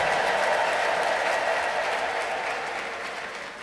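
A church congregation at an Ethiopian worship service bursts into sustained applause, a dense, steady wash of clapping that fills the room and slowly fades toward the end.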